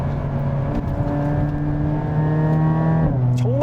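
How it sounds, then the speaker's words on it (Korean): Hyundai Avante N accelerating hard in close-up, its engine tone climbing in steady harmonic sweeps before a brief dip as it shifts gear, then rising again, loud and continuous with no talking. "이렇게 가속을 하면 순식간에 가속이 됩니다"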